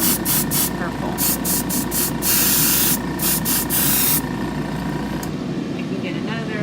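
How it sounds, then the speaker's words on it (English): A spray gun blasts out leftover purple paint in repeated loud hissing bursts with short gaps, then cuts off near the end, leaving a quieter background. "spray whatever's left in your gun out"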